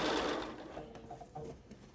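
A sewing machine stitches binding onto a baby blanket, giving a faint, brief whir of rapid stitching heard up close and alone, with no voices.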